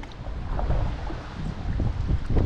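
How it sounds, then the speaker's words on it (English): Steady, heavy wind buffeting the microphone on a river while canoeing, a constant low roar with gusts swelling louder toward the end; no voices. "I don't know if you can hear me with the wind."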